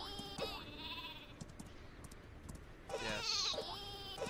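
Sheep bleating in a video game, a few short wavering bleats at the start and again near the end, with soft clicks and game sounds between them, fairly faint overall.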